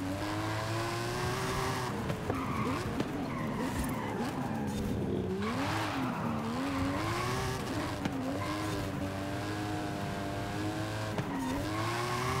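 A race car in Forza Horizon 5 winds through sweeping corners on a custom track, its engine note rising and falling with repeated shifts as tires squeal, steady and continuous under game sound.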